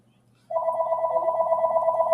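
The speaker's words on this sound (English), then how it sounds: "Sorry about the phone, guys." A household telephone rings indoors, starting abruptly after a brief quiet moment and holding a steady, loud, pulsing electronic tone alone for the rest of the clip.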